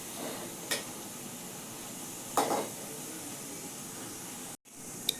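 Onion bhaji fry in hot oil, a steady close sizzle and hiss with a couple of brief utensil clinks and scrapes over it.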